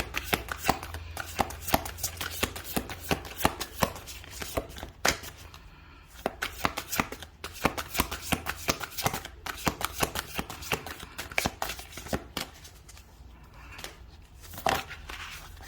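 Tarot cards are shuffled for a reading, giving a steady run of crisp, close riffling and flicking snaps for the whole stretch. The shuffling sits at a low level with no talk over it.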